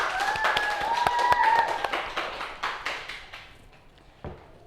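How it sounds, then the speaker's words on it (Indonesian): Students in a classroom give a short round of applause, with brisk clapping that thins into scattered claps and fades out. A few voices are faintly audible. "Tepuk tangan semuanya."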